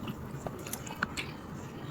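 Biting into and chewing cooked chicken, with soft crunches and a few sharper bites spread across a quiet moment, close and fairly faint, with no talking.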